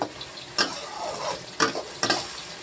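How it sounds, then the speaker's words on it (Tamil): Carrot, onion, chili and mustard seeds sautéing in a pan, a steady sizzle with three sharp stirring scrapes, close up and with no speech. "இவங்களெல்லாம் வதக்கி எடுத்துக்கலாம்"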